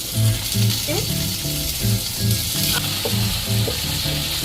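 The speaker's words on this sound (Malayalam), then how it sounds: "കുറച്ച് ഓയിൽ ഒഴിച്ചതിന് ശേഷം നമുക്ക് ഈ ടൂണേന ആദ്യം ഇതിലേക്ക് ഇട്ട് കൊടുക്കാം" Tuna fries in hot oil with a loud, continuous close-up sizzle and crackle, while a soft rhythmic pulsing tone repeats steadily underneath.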